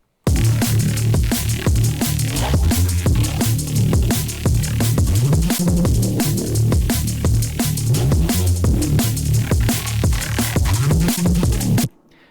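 A gritty, growling Reese bass line from a Serum synth pulses over a steady electronic drum beat with punchy kicks and snappy hits, loud and continuous before cutting off abruptly.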